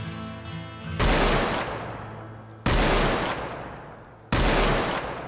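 Gunshots in the Roblox Wild West game, three sharp loud blasts spaced over a few seconds, each followed by a long decaying echo, after a short stretch of game sound.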